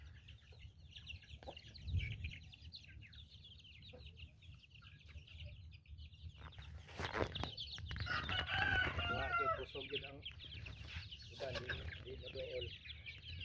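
Shamo roosters and chickens clucking at a breeder's yard: repeated nearby clucks and squawks that grow busier toward the middle, with people talking quietly in the background.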